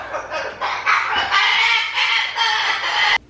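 A pet bird yelling indoors, a loud run of harsh, squawking calls in quick bursts for about three seconds, then a sudden stop.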